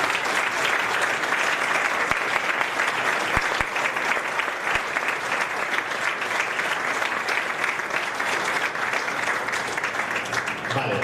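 Steady, dense applause from a seated audience at a summer political conference gathering, loud and unbroken for the full stretch with a few sharper claps standing out.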